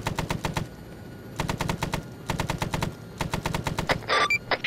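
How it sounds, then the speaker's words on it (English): A bigger machine gun in the ARMA 3 video game fires several rapid bursts of closely spaced, punchy shots, separated by short pauses, with no talking over them. "That's a bigger machine gun."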